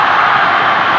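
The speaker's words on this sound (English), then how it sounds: "this is the roar of the Nepali faithful" A crowd of Nepali football fans roars in a stadium during a match against Myanmar, a dense, continuous wash of cheering noise filling the whole second.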